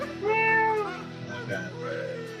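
A cat meows in a video game demo trailer: one drawn-out, clear meow near the start, followed by fainter, shorter mewing sounds and some background game ambience.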